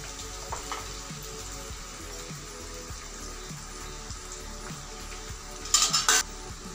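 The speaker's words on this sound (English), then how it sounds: "let us just saute the ingredients well till the capsicum is cooked" Capsicum and other ingredients sauté in a pan for capsicum vaangibath, giving a steady soft sizzle broken by regular scraping stirs, then a brief louder clatter of utensils near the end, with no one talking.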